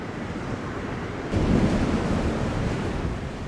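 Sea waves break on the Spanish coast near Benicarló, a steady wash of surf that swells louder partway through, mixed with wind noise on the microphone.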